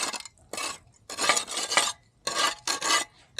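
A tool scrapes rust off metal that was heated with a SakerPlus torch, making several rough, rasping strokes in close bursts separated by brief pauses.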